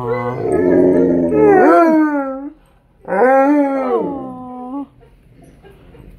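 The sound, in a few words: Alaskan Malamute and Blue Bay Shepherd dogs howling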